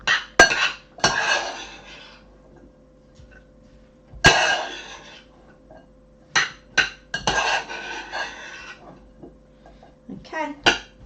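Vegan salad being mixed with utensils in a bowl after a few twists of Himalayan pink sea salt, giving sharp intermittent clinks and scrapes in bursts with short pauses, close and fairly loud.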